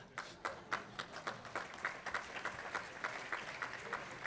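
Audience at the OECD Ministerial Council Meeting opening giving polite applause, fairly faint and distant, with uneven clusters of claps rising and falling for a few seconds.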